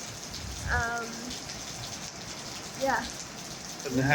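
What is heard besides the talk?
rain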